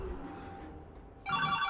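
A telephone rings in the video game Darkness 2, a trilling electronic ring that starts suddenly near the end and stays loud and steady over quieter game ambience.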